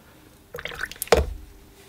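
A brush dipping and swirling in water to thin burnt umber and sienna watercolour paint for a light wash, giving a brief cluster of close, wet dabbing and dripping sounds, then one sharper splash before it settles.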